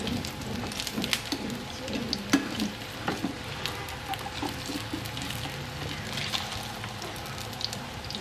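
Potato dahi vadas deep-fry in hot oil with a steady, dense sizzle and scattered crackling pops, close and continuous, with no talking.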